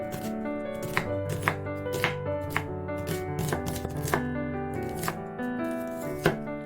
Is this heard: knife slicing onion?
yes